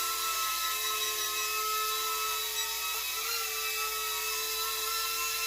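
A Propel Navigator Twister drone hovering nearby, its rotors giving a steady high-pitched whining buzz with tonal hum that stays loud and unbroken throughout, alone with no talking.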